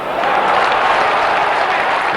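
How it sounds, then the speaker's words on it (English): A football crowd at West Ham United v Wrexham in 1997 applauds, giving a steady, loud wash of clapping from a big stadium audience that lasts the whole moment. "Ferdinand wins applause for his intervention"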